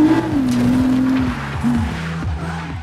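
Nissan GT-R police car engine running up close, a steady droning tone that shifts in pitch as it revs, with faint squeal-like sweeps and a continuous low rumble underneath.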